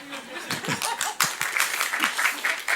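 Scattered audience clapping at a software development talk, a few sparse claps and taps mixed with light laughter and a murmur of voices, fairly quiet.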